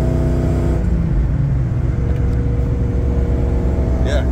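Big EFI 460 V8 in a heavy dually four-wheel-drive converted truck, fitted with a stage 1 cam and 1.8 ratio roller rockers, idles with a steady deep rumble close by, ending with a brief higher whir.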